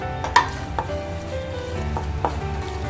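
Poppy seeds fried in a tablespoon of hot ghee in a pan on a low gas flame, a continuous soft sizzle broken by a few sharp clinks of a spoon, close and without speech.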